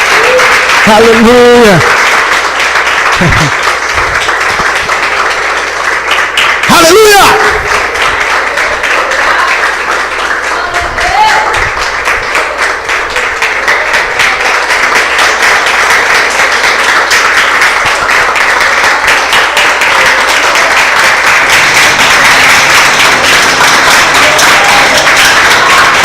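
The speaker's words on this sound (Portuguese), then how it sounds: "Vamos aplaudir Jesus!" A church congregation applauds and claps in praise of Jesus, loud continuous applause over several seconds while voices shout and a preacher speaks over the clapping.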